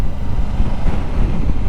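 Strong, gusty wind roars over the microphone at about 1000 m in Norwegian mountains during a storm, a loud continuous rush with low buffeting and no voices.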